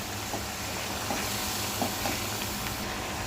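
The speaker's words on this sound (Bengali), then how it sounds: "এখন কয়েকটা কাঁচামরিচ দিব" Green chilies drop into a pan of shrimp dopiaza, a steady close sizzle of frying with faint stirring scrapes throughout, no voices.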